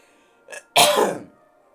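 A single sharp cough, preceded by a brief short throat sound, loud and close with no other noise around it.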